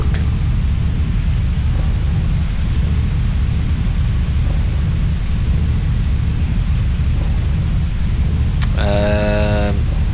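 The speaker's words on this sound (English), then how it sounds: "And that's just thunder. pretty common when it's storming, okay?" Thunder rolls through a storm in the video game Grandia II as a steady, loud, low rumble for the whole stretch, with a brief tonal sound rising near the end.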